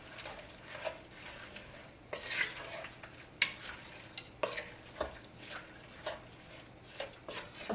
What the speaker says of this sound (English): We're going to go ahead and give that a stir.